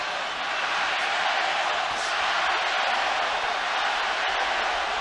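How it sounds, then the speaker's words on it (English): Arena crowd at the Golovkin vs Canelo boxing match, a dense continuous roar of cheering and shouting that stays loud and even throughout, with a brief swell of whoops near the middle. "Crowd are getting into it."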